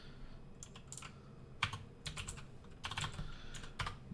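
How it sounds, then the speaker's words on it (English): Quiet, rapid typing on a computer keyboard, with bursts of key clicks in uneven clusters and no talking. "Man, my typing right now."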